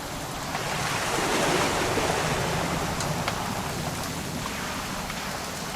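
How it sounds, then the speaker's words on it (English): Steady rain falls in the video game What Remains of Edith Finch, a dense, even hiss of drops on surfaces that keeps up throughout at close range, with no voices heard. "It's gonna rain the whole weekend"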